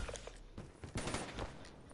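An AK on rapid fire in an online Black Ops 3 match lets off quick bursts of gunshots, fairly quiet and uneven, with no speech over them.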